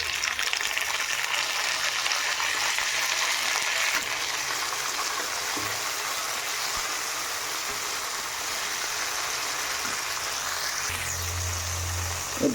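Tomatoes go into onions frying in a pan for a sour fish curry, a continuous close hiss and sizzle of oil with a brief low thump near the end and no speech.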